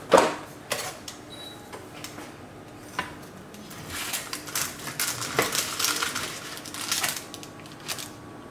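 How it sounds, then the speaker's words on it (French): Coca-Cola glazed pork ribs being cut into a piece, giving soft scraping and clinking of utensil against plate with light crackly, sticky sounds, close and fairly quiet, with a sharper knock near the start. "J'en découpe un morceau."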